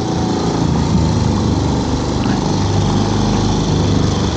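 Small dinghy outboard motor being pull-started with a rope outdoors on a cold, breezy morning, heard as a loud, steady engine drone running throughout with wind noise.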